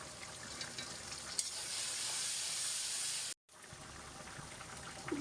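Dried chilli, turmeric, garlic and ginger sizzling in a frying pan as the base for a fish curry: a close, steady crackling fry that cuts out for an instant, then resumes.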